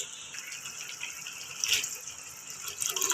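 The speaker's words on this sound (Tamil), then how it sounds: "இந்த டைமில் 1 டம்ளர் அளவுக்கு நம்ம தண்ணி சேர்த்துக்கலாம்." Water splashing as it is poured into a pan, a soft, hissy gush that swells briefly midway and again near the end, with no voices.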